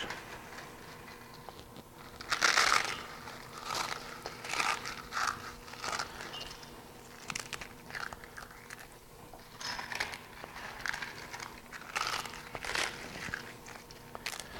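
Corn tortilla chips being crushed by hand for a gluten-free stuffing give off faint, irregular crunching and crinkling bursts, close up and quiet, with a louder crunch early on and no talking.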